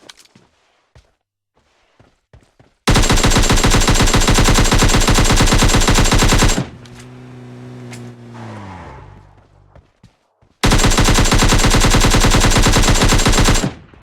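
Long, loud bursts of rapid automatic gunfire in PUBG Mobile Lite, with a vehicle engine revving and skidding between the volleys.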